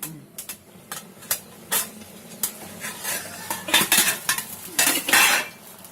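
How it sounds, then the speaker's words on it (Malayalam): Mutton roast is stirred in a cooking pot, a spoon scraping and clanking against the metal in quick irregular strokes, close and loud, with a faint sizzle beneath. "ഒരു 10 minute കഴിഞ്ഞ ശേഷം ഒന്ന് എടുത്ത് ഇളക്കി കൊടുക്കണം."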